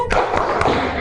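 A class of pupils doing a rhythmic focus clap in a classroom: three sharp, loud group claps spaced evenly over about a second, with no talking.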